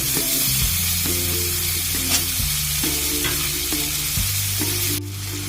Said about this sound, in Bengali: এবার পেঁয়াজ, রসুন, টমেটো সব ভাজা ভাজা হয়ে গেছে